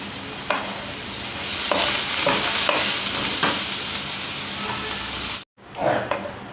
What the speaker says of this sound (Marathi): तर आपला इथे कांदा चांगला परतून झालेला आहे